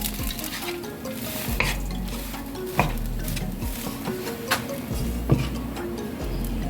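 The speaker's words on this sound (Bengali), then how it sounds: "এখন সবজিটা ভাতের সাথে মিশিয়ে নিচ্ছে" Leftover rice and vegetables stirred in a frying pan, with a steady sizzle and repeated scraping and clinking of the spatula against the pan in an uneven rhythm.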